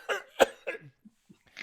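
A person coughs several times in quick succession: a cluster of harsh, close bursts at the start, then a few softer, fainter coughs and throat sounds trailing off.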